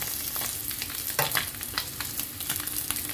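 Swordfish pieces fry in hot oil until golden and crispy, a continuous crackling sizzle with bursts of popping and spatter, close and alone without talk.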